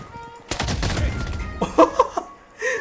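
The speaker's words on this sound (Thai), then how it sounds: "เราก็โดนปืนกลยิง" Machine gun fire in the shooter BloodStrike, a dense rapid burst of shots up front followed by a few sharper scattered pops, loud and close with a brief voice near the end.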